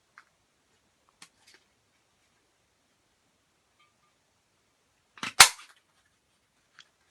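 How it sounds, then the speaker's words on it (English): A handheld paper craft punch cutting flower shapes from card, a few faint ticks followed by one loud sharp snap, close up in an otherwise quiet room. "noisy messy punching"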